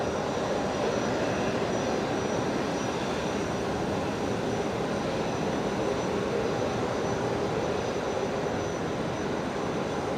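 An airliner departing runway 01 right at Brisbane Airport, its engines a steady broad roar that stays loud and unbroken throughout, with no voices.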